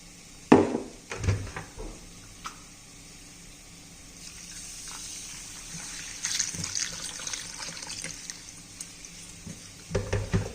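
Quinoa is rinsed in a bowl of water in a home kitchen, with soft sloshing and trickling swirls, a few sharper knocks and splashes near the start and end.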